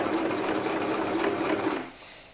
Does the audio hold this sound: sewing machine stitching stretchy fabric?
yes